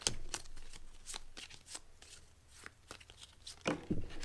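Paper drawing entries being mixed by hand before a random prize draw: soft, faint rustling and shuffling in irregular bursts, close by, with no talk.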